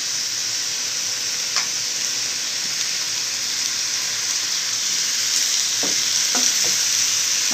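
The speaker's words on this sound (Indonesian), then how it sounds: "Masukkan cabenya." Chili fries in a hot pan for a chicken garang asem dish, a steady loud sizzle with a few sharp scrapes and taps of stirring near the end.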